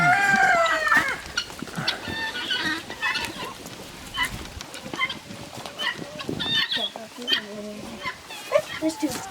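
Hens clucking and cackling in a farm pen, a laying Orpington hen among them, repeated close clucks and squawks at an irregular rhythm, with a person talking over them.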